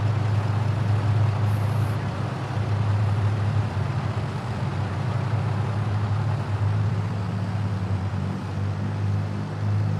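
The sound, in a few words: farm rig engine running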